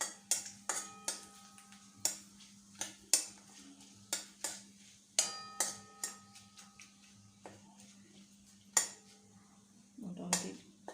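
A spoon stirs black cumin seeds in oil in a metal pan, a close series of sharp clinks and scrapes in an irregular rhythm with a faint sizzle underneath.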